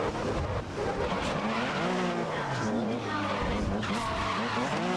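Race cars lap a track in the video game GRID (2019), tires squealing and skidding as engines rev up and down. The loud, continuous noise runs under a voice.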